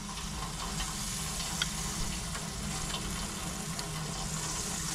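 Butter sizzles steadily over blue crabs on a hot grill, a continuous dense crackle with small pops, close and fairly loud, no voices.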